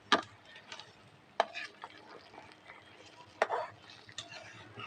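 Fried pabda fish is added to a simmering mustard kasundi gravy and gently stirred, giving three or four soft spoon-and-pan knocks over a faint low bubbling, with quiet speech in the background.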